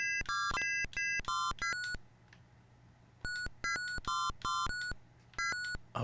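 Dual-tone beeps like phone dialing from the Astrocade crosswords video game chirp in quick clustered runs, pause briefly, then resume in another rapid burst of short tones.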